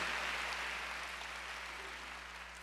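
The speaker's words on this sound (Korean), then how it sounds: "박수 하세요." A church congregation claps as steady, dense applause that fades slightly over a few seconds, heard from a distance in a large room.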